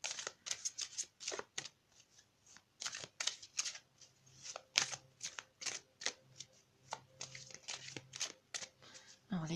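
Tarot cards being shuffled close up in a long run of quick riffles and soft slaps, rhythmic and fairly quiet, with a voice speaking faintly underneath.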